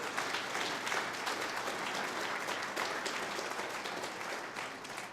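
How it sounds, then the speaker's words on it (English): Sustained crowd applause fills an oath of office ceremony, a dense, steady wash of many hands clapping at even loudness throughout, with no voices over it. "Let's give him another round of applause, everybody."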